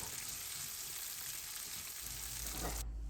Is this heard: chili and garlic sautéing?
yes